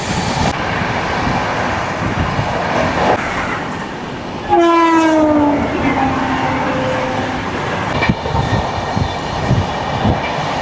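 An SMVB Bengaluru to Howrah AC superfast express runs with loud, steady rumble and rail clatter, and a long horn blast cuts in partway through.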